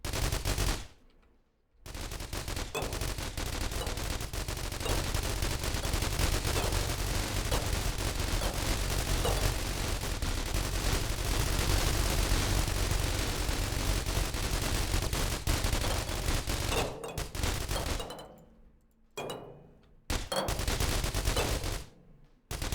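Sustained, loud automatic gunfire from the zombie shooter game The Walking Trade, a dense barrage running nearly nonstop for around seventeen seconds with only brief gaps near the start and end.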